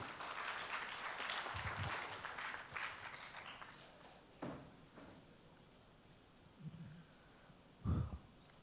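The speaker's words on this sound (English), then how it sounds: "Clap for it." An audience at a National Science Day celebration in India claps together for several seconds. The applause is fairly loud at first, then fades, and a few scattered thumps and shuffles follow.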